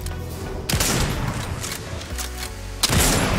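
Gunfire in the video game Fortnite comes as loud bursts and booms, with a dense volley at the start and another sharp blast near the end.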